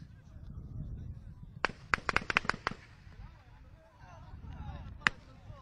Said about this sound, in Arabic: إذن إطلاق نار كثيف.